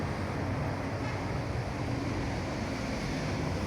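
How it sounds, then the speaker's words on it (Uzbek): Strong wind blows outdoors on a street, a loud, steady rushing roar that buffets the microphone throughout, with no talking. "mana ko'chada shamol."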